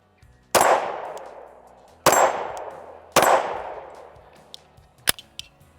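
A Shadow Systems CR920P pistol fires three sharp, loud shots spaced about a second apart, each with a long ringing decay, followed by faint metallic clinks and small clatters.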